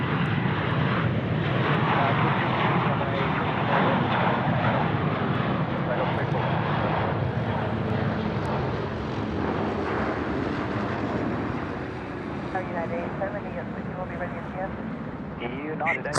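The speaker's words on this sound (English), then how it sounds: "we'll just break away from that for this Jetstar. departure" A Jetstar Airbus A321 departs Sydney Airport with a steady, loud jet roar that fades slightly near the end while someone talks over it.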